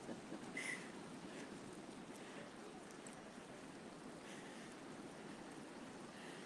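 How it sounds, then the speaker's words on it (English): Waves break over a coastal rock platform as a continuous, distant wash of surf, a soft, even roar with a slightly louder surge at the start. "And the waves are breaking over the rock platform"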